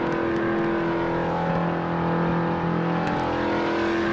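Stock car engine of a Caper Monterey in the racing video game Project Cars, a steady loud droning hum with sustained tonal lines, running alone without talk.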